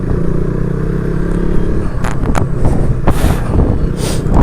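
A KTM RC 200 motorcycle engine drones loud and close in a steady rumble, buffeted by wind noise against the microphone as it rides.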